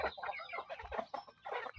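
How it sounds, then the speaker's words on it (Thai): A small flock of a dozen or so broiler chickens in a home coop clucks busily and close by, the overlapping calls forming a continuous chatter. "ฟาร์มไก่เนื้อนะครับ"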